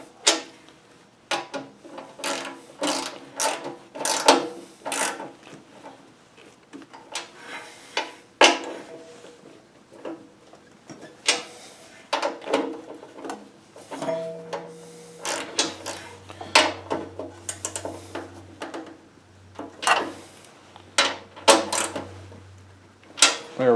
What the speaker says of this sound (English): get our ratchet,